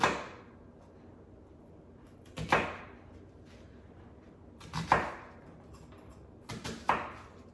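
A knife chops an onion into small pieces on a cutting board in a home kitchen: a handful of sharp, separate knocks spaced a second or two apart, each ringing briefly, close and clear with no talking.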